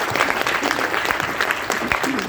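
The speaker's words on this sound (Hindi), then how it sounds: "जोरदार तालियां होनी चाहिए।" An audience at a company event honours its founder with loud, dense applause, many hands clapping steadily and close, with a voice briefly audible beneath the clapping.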